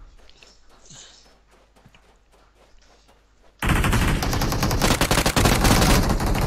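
Automatic weapon fire in the battle royale PUBG Mobile during a competitive scrim, a quiet stretch of faint steps and then a loud, sustained burst of rapid shots; voices are present.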